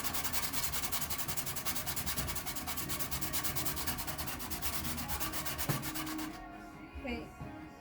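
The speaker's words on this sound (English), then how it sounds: "Pace yourself when you're sanding." Steady, rhythmic hand sanding scratches back and forth across wood, close and loud, then stops near the end leaving faint room noise.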